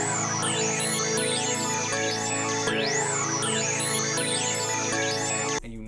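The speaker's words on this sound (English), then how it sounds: "One was this string sound where all I did was just put a repeating little" A synthesized string melody made in FL Studio plays a short repeating one-line pattern that shifts up a semitone, layered over a steady beat with sustained pads, loud and continuous before cutting off abruptly at the end.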